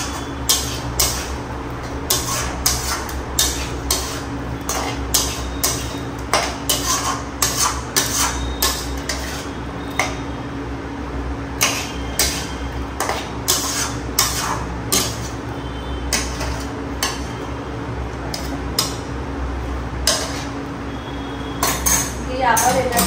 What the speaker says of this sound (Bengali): ভালো করে কষিয়ে নিয়ে